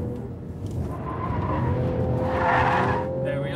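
Magnus Walker's 400-horsepower Porsche 911 is driven hard, its engine droning steadily up through the revs with tire noise beneath, heard from inside the car and continuous throughout.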